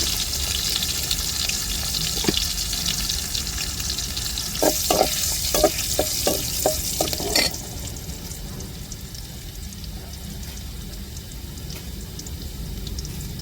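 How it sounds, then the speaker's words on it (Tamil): Fenugreek seeds sizzle and crackle in hot oil, a steady frying hiss with a run of quick stirring clicks partway through before the sizzle settles down. "குழம்பு தாளிக்க வெந்தயம் சேர்த்துக்கோங்க"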